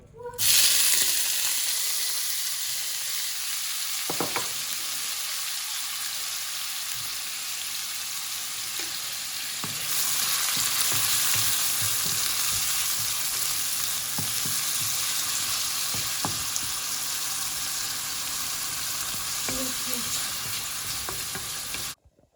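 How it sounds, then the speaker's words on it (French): Chopped onions and other ingredients frying in oil for an African dish, a steady, loud sizzle that swells midway, with occasional stirring clicks and no talk over it. "Voilà mes ingrédients qui sont en train de bien mijoter."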